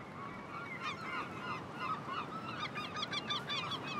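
A gull colony on the Atlantic coast, with many birds calling at once in overlapping, repeated cries. The calls are steady and dense, with no voices.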